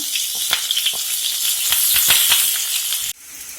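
Chopped onion, green chili and curry leaves hit hot oil in a pan for a potato masala, a loud steady sizzle with crackling pops that abruptly drops off near the end.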